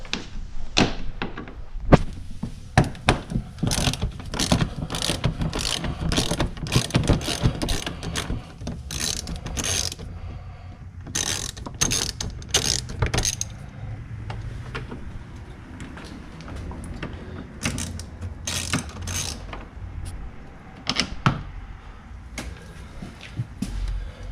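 A ratchet loosens Torx bits on a 2017 Club Car Precedent fleet golf cart, giving rapid bursts of close, crisp clicking with short pauses and occasional clunks.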